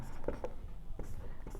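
Chalk or marker scratches out short writing strokes on a board in a maths class, a few soft bursts close by, with a man's faint speech around them.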